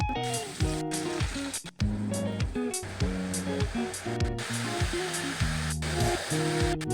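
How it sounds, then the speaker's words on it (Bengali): Whole spices tempering in hot oil for a fish curry, a steady close sizzle and hiss beneath constant background music, with no speech. "ফোড়ন দিয়ে দিলাম"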